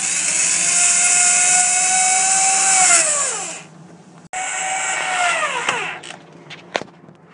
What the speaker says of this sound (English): Drilling the roof on is the hardest part of the project.